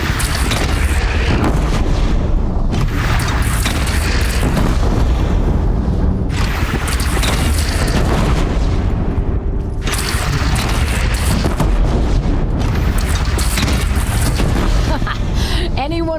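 Heavy cannon blasts from a bandit clan's single cannon in Horizon Zero Dawn boom repeatedly under dense battle noise and shouting voices, the loud low thuds recurring every few seconds.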